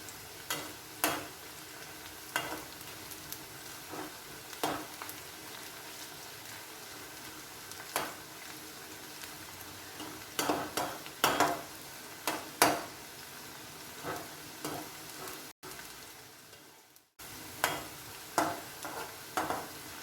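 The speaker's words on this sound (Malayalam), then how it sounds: "അതുകൊണ്ട് നമ്മളിതിങ്ങനെ കണ്ടിന്യൂസ് ഇളക്കി കൊടുക്കണം" Onions fry in oil while being stirred continuously, a steady sizzle broken by repeated scraping and clinking strokes of the utensil, with a brief drop-out near the end and no speech.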